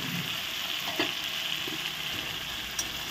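Fried pointed gourds hit a pan of spiced masala and sizzle with a steady, close frying hiss, broken by a couple of soft scrapes or clinks.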